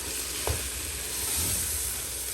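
Beef pilau rice mixture sizzles steadily in a hot pan as it is fried and turned, a continuous close frying hiss broken by a couple of soft scraping stirs, with no talking.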